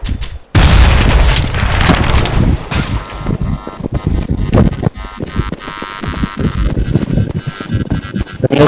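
A bomb blows up in Counter-Strike: Global Offensive, a sudden loud boom after a brief silence, followed by a long rumbling, crackling tail with game effects and a voice talking underneath.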